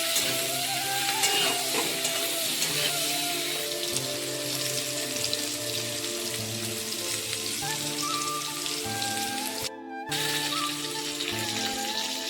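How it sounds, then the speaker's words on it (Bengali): Tender gourd stems (lau data) sizzle in hot oil with a pinch of salt while being stirred, a continuous close frying hiss with occasional scraping of a spatula in the pan, one brief dropout midway. "ভালো করে নেড়ে চেড়ে ভেজে নেব।"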